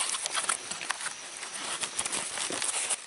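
Rain patters densely on a small plastic sheet hung over a camera, a continuous crackling rattle of close drops with uneven surges.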